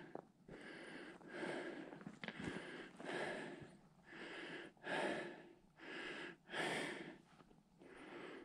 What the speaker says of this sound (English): So yeah, I'm breathing heavy.